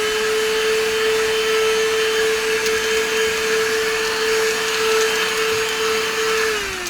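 Cordless handheld vacuum cleaner fitted with a brush attachment runs steadily at close range, a constant high motor whine that holds level and then dips slightly in pitch at the very end.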